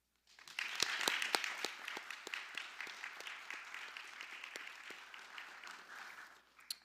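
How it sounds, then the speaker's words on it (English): An audience at a college scholars cording ceremony applauds, a fairly quiet round of clapping with a few sharp individual claps standing out, building up and then fading over several seconds. "I invite you to give a round of applause to these amazing faculty directors behind me"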